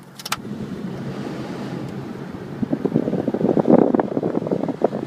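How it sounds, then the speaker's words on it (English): Steady blowing air-conditioning fan and air rush inside a 2005 Ford F250 diesel pickup, with a brief jingle of keys at the start and faint clicking diesel engine noise building underneath. "It's blowing, the fan blows hard"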